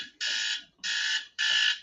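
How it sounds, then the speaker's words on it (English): Three loud, identical electronic alarm beeps, each about a third of a second long, repeat at an even pace with short silent gaps between them. Nothing else is heard. "There's my Taylor alarm."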